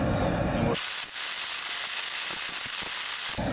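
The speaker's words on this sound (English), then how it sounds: "once our butter is melted, we're going in with our onions" Onions dropped into melted butter in a pot for Brunswick stew, a steady bright sizzle and hiss that holds evenly throughout after a brief rumble at the start.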